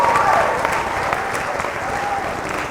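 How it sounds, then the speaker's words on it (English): An audience at an international music council concert applauds a performing group, a full, continuous clapping from a large hall with occasional faint whoops riding over the steady patter. "So can you give them loud applause once again?"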